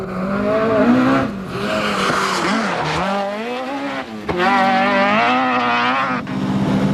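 A damaged Subaru Impreza rally car at a 1998 Donegal rally stage runs at length with a loud, strained engine drone whose pitch rises and falls through gear changes, steady and close throughout.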